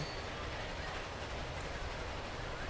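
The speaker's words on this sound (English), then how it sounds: "Ooh, a steam tram." A steam tram in the video game Transport Fever rolls past with a brief, constant rumbling rail clatter at low volume.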